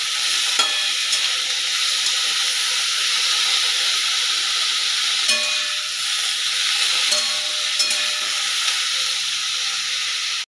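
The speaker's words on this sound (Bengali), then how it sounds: "গ্যাসটা সিম করে ঝিঙের খোসাটা আমাকে ভেজে নিতে হবে।" Ridge gourd peel fries with garlic in a pan on a low gas flame, a constant bright hiss and sizzle with a few sharp crackles and faint stirring, steady throughout before cutting off.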